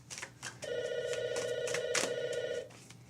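A telephone rings with a steady electronic tone lasting about two seconds, loud and close, with faint background murmur around it.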